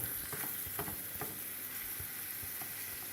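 Celery and mushrooms sizzle in fresh oil in a pan, a steady close crackling fry with occasional pops and stirring clicks, no voices.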